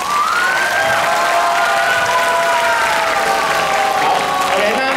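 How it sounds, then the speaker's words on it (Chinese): Loud, steady applause from an audience at a student tea-party performance event, with shouts and cheers mixed in, continuous throughout. "那现在先给他们一个热烈的掌声"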